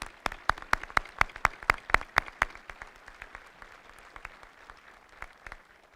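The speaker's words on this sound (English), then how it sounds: "join me in a round of applause for these great soldiers" An audience at an Army I Corps change of command ceremony applauds for soldiers: a quick, dense run of crisp claps that thins to a few scattered hand claps, heard from a moderate distance with no talking.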